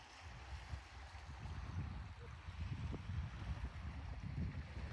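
Pacific Ocean waves washing through an intertidal area at a spit, a steady rushing and churning of water with low rumbling surges, fairly close and continuous, with no voices.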